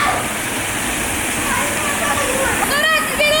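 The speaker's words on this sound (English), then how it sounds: "Oh, Liam turned all the water stuff on." Splash pad water features run with a steady, loud rushing and splashing outdoors, while a voice and other talk rise over it near the end.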